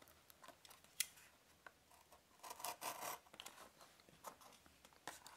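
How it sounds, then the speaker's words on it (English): Scissors snip and rasp through a cardboard box holding Skullcandy Method Sport earphones, a scattered run of short, close cuts and rustles with a few sharper clicks and no talking. "let's cut the box open"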